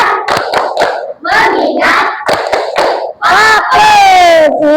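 Elementary classroom children clapping in rhythmic bursts while chanting a focus routine together in unison, loud and close, with groups of sharp claps punctuating the sung words and a sustained shouted chant at the end.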